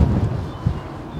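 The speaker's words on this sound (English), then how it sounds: "Because my God, it's windy." Strong wind buffets the microphone with low, rumbling gusts and a steady roar, peaking in short bursts.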